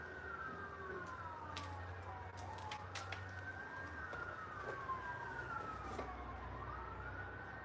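Emergency vehicle sirens wail in the distance, their rising and falling tones sweeping steadily over a low background hum, with faint birds and light street noise around them; no one speaks.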